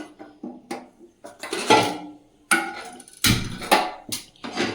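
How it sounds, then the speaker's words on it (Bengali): A frying pan is set on a kitchen stove, producing a run of sharp metallic clanks and knocks of pots and utensils, close and irregular, with brief pauses between the bangs. "এদিকে একটা ফ্রাই প্যান চাপিয়ে দিয়েছি"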